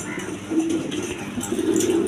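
Red-colored male pigeons of a gola breed coo softly in a low continuous murmur, close by at a bird market stall.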